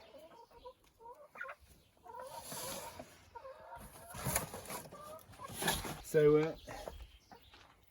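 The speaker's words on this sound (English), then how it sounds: "there's our 3 new chickens." Several chickens cluck and squawk close by, rising louder toward the end, while a person says a word amid faint background noise.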